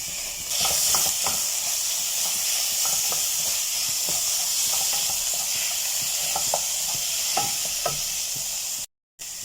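Chopped tomato with onion and tomato paste sautéing in a pan for vegetable soup, a steady sizzle broken by spoon scrapes and stirring clicks, fairly close and with no talk.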